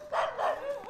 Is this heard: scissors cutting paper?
no